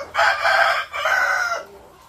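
Chickens in a layer building on an egg layer farm with damaged cages: two loud, close crowing and clucking calls, the second trailing off into a quieter cluck, with no voices.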